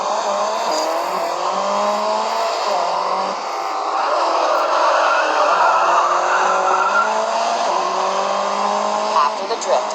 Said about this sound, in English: After the drift, accelerate out of the corner.